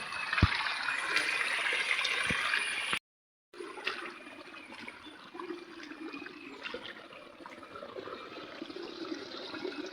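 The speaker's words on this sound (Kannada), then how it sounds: "ಇಲ್ಲಿಂದ ನೀರು ಬಂದು ಇಲ್ಲಿಂದಾಗಿ ಹೋಗ್ತದೆ ನೋಡಿ" Water flows down from a hill in a continuous, moderately close rushing stream, alone with no voices, briefly cut by a short gap of silence before the flow resumes.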